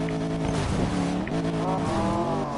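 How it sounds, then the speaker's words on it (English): Porsche engine roars loudly and continuously as the car drives off-road in Need for Speed Payback on PS4, with rising and falling revs and tire noise, no talking over it. "Just listening to the massive sound of that engine."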